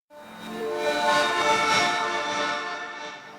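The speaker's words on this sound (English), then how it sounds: "I'm going to jump over here to this lead synth that sounds like this." A lead synth patch on a polysynth sounds one bright, buzzy sustained note that swells in quickly, holds steady and slowly fades, alone and fairly loud.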